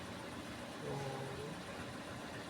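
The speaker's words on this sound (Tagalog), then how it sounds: "patayin po natin yung makina dahil tapos na po yung pagpapainit natin" A car engine idles after being run to warm up and charge the battery, a faint steady low hum with a slight rise partway through, heard alone and quiet.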